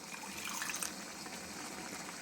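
Water pours steadily into a pot of vegetable kuruma, a continuous splashing rush that stays even throughout, ending with a brief clink.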